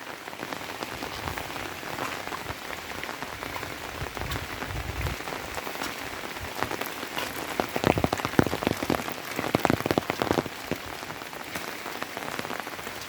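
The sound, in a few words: rain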